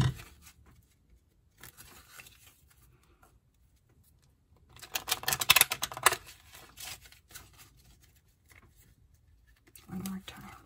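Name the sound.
shuffling tarot cards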